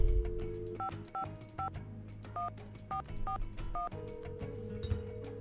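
Telephone keypad tones in the Nancy Drew game Secret of the Scarlet Hand, seven short dual-tone beeps in an uneven rhythm after a steady dial tone that resumes once dialing ends, fairly quiet and clear with no talk.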